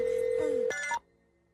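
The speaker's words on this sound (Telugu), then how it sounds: "రింగ్ అవుతున్నదా?" An outgoing call rings through a telephone in a Telugu thriller film, one short ring burst after a steady tone, cut off abruptly before silence.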